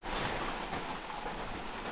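Steady broadband hiss of rain falling on Mount Colden in the Adirondacks, New York, constant and fairly loud throughout, with no voices or distinct drops standing out.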